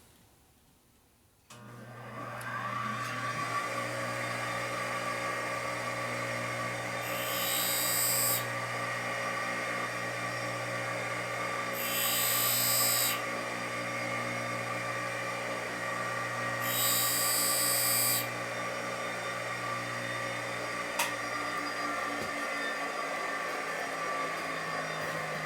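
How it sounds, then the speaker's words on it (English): A steel drill bit being sharpened on a diamond grinder in a workshop: a steady whining motor hum with three separate bursts of harsh, gritty grinding as the bit touches the wheel. "I'll do it over here on the diamond grinder"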